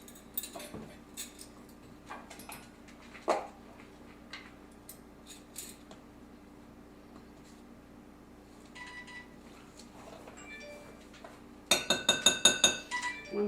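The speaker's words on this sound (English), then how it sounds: "My measuring spoons." Metal measuring spoons give sparse light clinks and taps in a kitchen while baking, then a quick rattling burst of clinking near the end.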